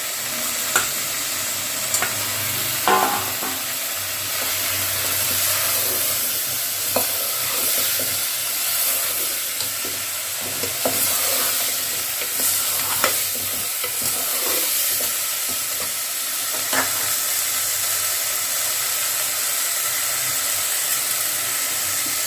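Drumstick pieces and raw mango chunks fried for sambar give a loud, continuous sizzle and hiss, with occasional scrapes and clinks of stirring, no talking.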